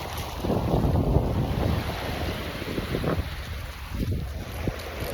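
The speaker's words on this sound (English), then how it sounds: "There goes the ocean." Ocean waves wash against the shore under steady, rumbling wind buffeting the microphone, a continuous broad roar with swells rising and falling, no voices.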